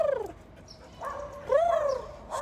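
Angry dogs bark and whimper outdoors on a seaside weekend, with short yelps and whining rising and falling in pitch, fairly close but not loud.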